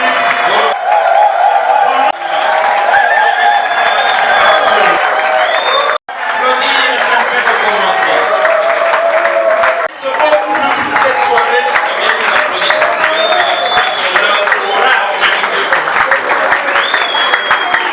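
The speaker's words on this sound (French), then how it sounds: "je vous prie de vous lever et d'ovationner, sinon d'acclamer ce couple pendant 2 minutes" Wedding guests at a civil marriage ceremony applaud and cheer the couple in a long, loud, sustained wave of clapping, with whoops and crowd voices mixed in and only a brief dip along the way.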